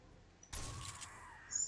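Crow cawing in a video game, a single short harsh caw bursting out after a quiet lead-in, moderately close.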